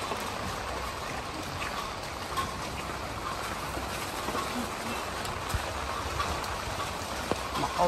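Steady rain falls over a waterlogged urban village in Xi'an, a continuous, even hiss of drops on wet surfaces and puddles with faint scattered taps and no voices.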